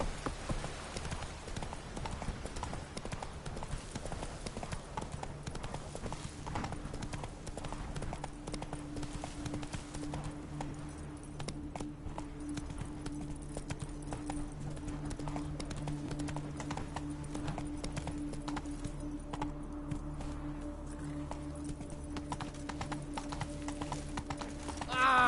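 Roach the horse's hooves in The Witcher 3: Blood and Wine, a steady rapid clip-clop of galloping running continuously and close, with a faint ambient drone underneath and no talk.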